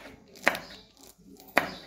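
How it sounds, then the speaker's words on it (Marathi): Green chillies are chopped finely on a board, two crisp knife strikes spaced about a second apart, close and fairly quiet, with no talk. "तर बघा असं बारीक कापून घ्यायला लागले आत्ती मिरची"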